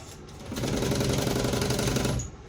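A sewing machine stitches a fabric shoulder bag in one steady, rapid run of about two seconds, close and clear, starting and stopping cleanly with no talk.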